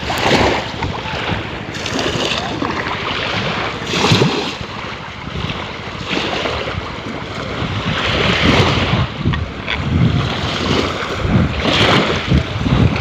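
Waves wash onto the sand at Freserganj sea beach where fishing boats come in, a continuous loud surf roar with rolling swells and heavy wind buffeting the microphone, no voices.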